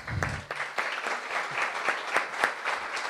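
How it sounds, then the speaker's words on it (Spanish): Audience applause at a book presentation held by an electoral court, a steady wash of clapping hands at moderate distance, continuous for a few seconds with no voices over it. "tengo que darle un aplauso"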